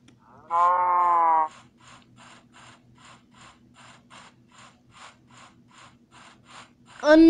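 A cow in Minecraft Pocket Edition survival gives a loud, clear moo, followed by a run of quick, regular clicking sounds, then a second moo starting at the very end.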